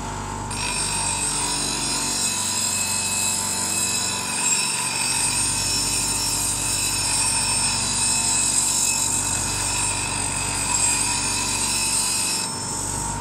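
A woodturning tool being sharpened on a CBN grinding wheel, a steady loud whirring hiss with a constant high tone, running continuously and alone for the whole stretch.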